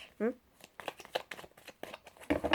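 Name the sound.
shuffling cards for a tarot draw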